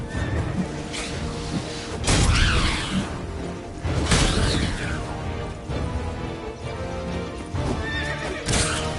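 A horse in The Witcher 3 gallops with rapid clip-clop hooves and lets out several loud neighs and whinnies in bursts, close and prominent, with occasional swooshes mixed in and no voices.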